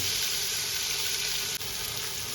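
Onions fry in a pan for a Kerala-style mutton curry, a close, continuous hiss of sizzling oil with a brief dip partway through and no voices.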